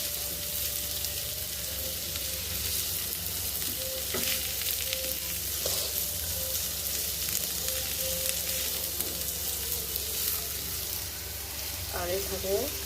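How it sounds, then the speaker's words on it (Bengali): Spices fry in a hot pan and are stirred, producing a loud, continuous sizzle throughout with occasional scraping and clinks from the utensil, heard up close. "এখন এটা নাড়াচাড়া দিয়ে ঢেকে দিব।"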